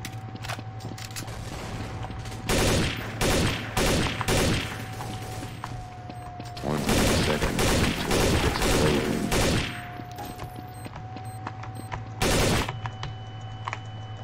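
Bursts of gunfire from the video game Counter-Strike: Source, several rapid volleys rattling through the clip with sharp shot after shot, the heaviest cluster in the middle and a final burst near the end, over a steady low game hum.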